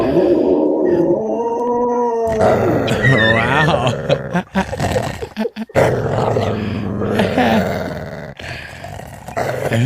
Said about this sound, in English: Is that the old dog doing that?